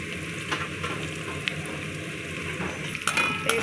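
Cumin seeds fry in hot oil in a pan for jeera rice, giving a steady soft sizzle with a few light clinks of a utensil against the pan near the end.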